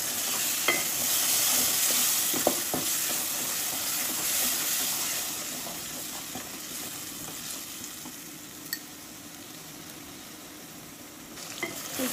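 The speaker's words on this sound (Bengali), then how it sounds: "নিচে যেন না লেগে যায় একটু নেড়ে নেড়ে দিতে হবে" Ginger-garlic paste masala fries in a pan and is stirred now and then, giving a steady, close sizzle with occasional soft spatula scrapes and no talking.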